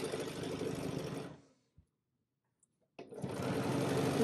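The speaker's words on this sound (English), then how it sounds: "I love free motion quilting is that I don't have to turn my quilt" Sewing machine stitching free motion quilting on a sunburst quilt design, a fast steady mechanical whir that stops for a second and a half with faint clicks, then starts up again, close and clear.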